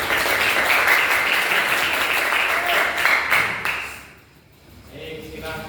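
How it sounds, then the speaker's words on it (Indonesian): A classroom group gives a round of dense, steady clapping for another student group, which fades out after about four seconds into quieter room sound. "Kita beri tepuk tangan."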